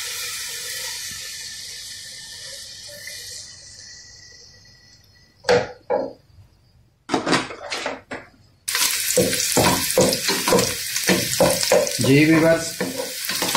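Chopped onion frying in oil gives a steady, close sizzle that slowly fades over several seconds. A person then talks over scattered stirring clatter and kitchen noise.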